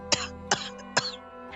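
Three sharp, raspy coughs in quick succession, close and fairly loud, spaced evenly about half a second apart.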